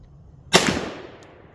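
A single sharp pistol shot from a Glock 10mm with a stock 6-inch barrel firing 135 grain Underwood rounds, a loud crack followed by a short decaying echo.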